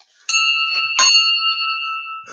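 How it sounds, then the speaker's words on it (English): A single bell is struck twice in quick succession, a bright ringing tone with sustained overtones that decays slowly, loud and alone. "Ring that bell."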